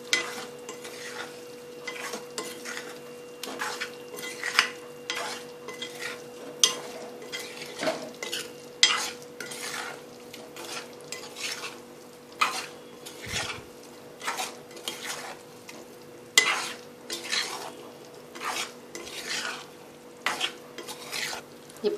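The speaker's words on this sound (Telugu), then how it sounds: "ఇందులో వేయించి పక్కన పెట్టుకున్న కోడిగుడ్లని ఇందులో వేయించుకుని 1 నిమిషం కలిపితే" Fried eggs being stirred through chilli masala in a pan, with steady spoon scrapes and clinks over a soft background sizzle, close and fairly quiet, no talking.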